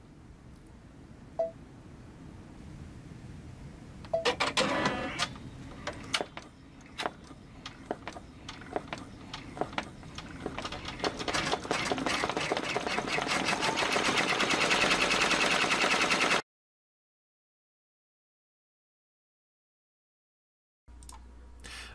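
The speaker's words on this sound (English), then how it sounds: "we're gonna go ahead and let this embroider" A Baby Lock embroidery machine with a cap frame stitches letters onto a cap. Its rapid, steady mechanical chatter is loud and close and runs for several seconds, then stops abruptly, with no talking.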